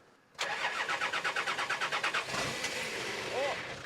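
A 4WD engine whose fuel has been cut off cranks with a fast, even rhythm of starter pulses for about two seconds, then catches and runs roughly at a loud, uneven idle.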